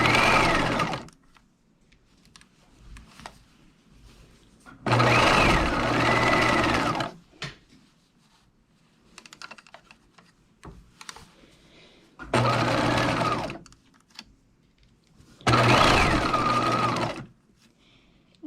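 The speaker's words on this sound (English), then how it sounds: "I start pinning at the underarm seam and I start sewing at the underarm seam." A sewing machine stitches a jacket sleeve into the armhole at the underarm seam, with a 5/8-inch seam allowance and 2.5 stitch length, running in four loud bursts of about two seconds each, separated by quieter handling of the fabric.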